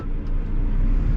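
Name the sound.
car approaching fast on the road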